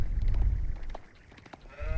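A sheep bleats a few times in Age of Empires 4, short nasal cries over low rumbling background ambience.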